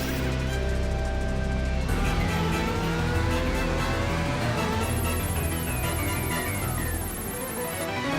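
A cartoon Formula One race car speeds along at full throttle, a loud continuous high-revving engine roar with shifting pitch that dominates the whole stretch.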